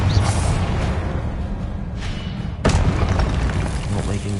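A Confringo blasting spell goes off in a Harry Potter video game as a loud, close booming blast with a rumbling tail, followed by a second sharp burst and continued rumble.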